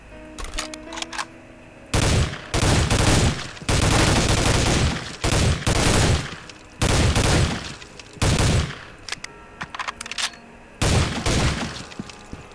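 Shotgun blasts in the Soldier of Fortune II video game during a boss fight, loud heavy bursts repeating in irregular clusters roughly every second or two, with quieter game noise between them and no talking.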